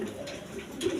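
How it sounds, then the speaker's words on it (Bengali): Large pigeons on a farm give soft, low coos close by, a brief murmuring call swelling slightly at the end over faint background noise. "দেখেন কবুতরগুলো দেখেন"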